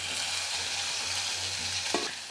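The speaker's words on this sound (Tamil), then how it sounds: "இப்போ நம்ம இடித்து வச்ச பூண்டு இஞ்சி வெங்காயம் சேர்த்துக்கலாம்" Crushed garlic, ginger and onion sizzle in hot oil for a country chicken soup, a steady frying hiss with a soft stirring scrape near the end, no talking.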